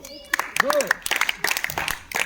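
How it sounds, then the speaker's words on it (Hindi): Children in a classroom clap in a short, brisk burst of scattered hand claps, mixed with voices talking over the clapping. "वेरी नाइस, ताली बजा दो।"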